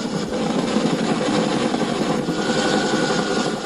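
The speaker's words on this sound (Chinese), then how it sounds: "直升机在高空盘旋" A rescue helicopter circles high over mountains during a search for a stranded hiker in Taiwan, producing a loud, continuous rotor and engine roar that stays steady throughout, with no voices.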